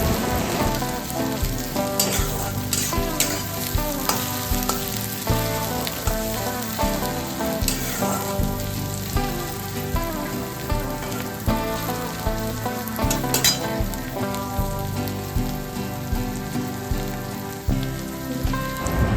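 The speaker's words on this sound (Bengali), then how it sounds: "এবার পেঁয়াজগুলো খুব ভালোভাবে নাড়াচাড়া করে একটু নরম করে ভেজে নিতে হবে।" Chopped onions sizzle loudly and steadily in a pan, a dense crackling hiss like rain that runs without a break, with occasional scraping from stirring.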